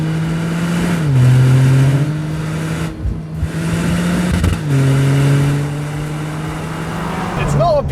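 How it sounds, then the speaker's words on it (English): A turbocharged hot hatch, either a 2025 VW Golf R or a GR Corolla, accelerates hard with a loud, steady engine drone that drops and climbs through gear changes, and a whistling turbo note near the end. "But it also sounds like a hot hatch from the 80s. Those turbo noises."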